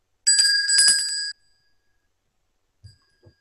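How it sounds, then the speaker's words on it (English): A single bright bell rings once, clear and close, its tone cutting off after about a second, followed by a couple of soft thumps. "here is the bell"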